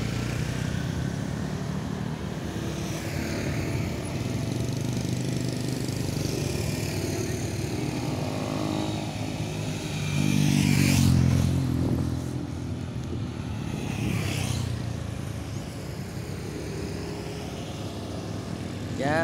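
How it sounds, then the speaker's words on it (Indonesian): A motorcycle on a city street in Malang, its engine idling with a steady drone that swells as it passes close around the middle, amid traffic. "cuman kok ada motor yang berhenti di situ pemirsa"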